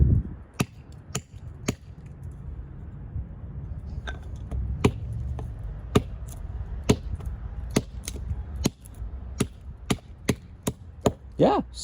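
EDC knife shaving down a wooden dowel rod used for testing. It makes a string of sharp, crisp cuts and snaps at an uneven pace over a low rumble, close and fairly loud.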